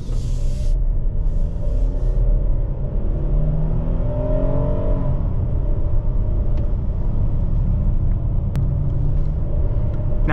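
A Hyundai Palisade with an 8-speed automatic accelerating in sport mode, a steady deep engine rumble and whir heard from inside the cabin, with the engine note rising in the first few seconds.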